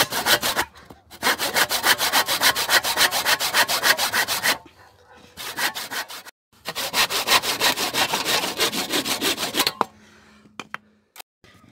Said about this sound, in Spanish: le vamos a cortar el pedazo al tamaño que nosotros querramos con el serrucho para que sea más rápido